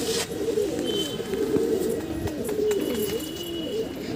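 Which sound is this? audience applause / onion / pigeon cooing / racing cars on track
pigeon cooing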